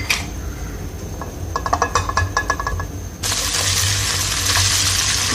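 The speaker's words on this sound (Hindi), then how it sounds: "पैन लेंगे हम, उसके अंदर हम ऑयल डाल देंगे, लहसुन अदरक डाल देंगे" Garlic and ginger hitting hot oil in a pan while vegetable fried rice is being made: a few light clinks and stirring scrapes, then a sudden loud, steady sizzle that fills the rest of the clip, close and continuous, with no talk.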